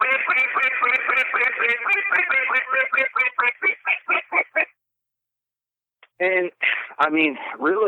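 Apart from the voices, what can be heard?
duck call played as fast aggressive comeback call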